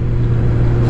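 Honda CBR 1100XX Super Blackbird motorcycle engine droning loud and close, a steady low hum held through a brief moment with no change in pitch.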